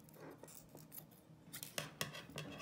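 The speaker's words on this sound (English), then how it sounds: "take my scissors, cut this off right here." Faint crisp snips of scissors, a few quick cuts close by in a quiet room, the sharpest ones near the end.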